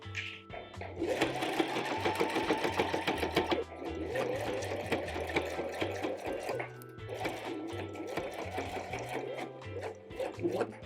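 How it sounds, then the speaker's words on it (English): A sewing machine stitches through thick denim, running close and loud in steady rapid bursts, pausing briefly between runs, with its motor humming underneath. "I've never been able to sew this corner part with a regular sewing machine"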